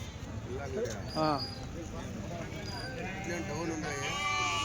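Sheep bleat a few times amid a busy weekly sheep and goat market in Kadiri, with people talking steadily in the background.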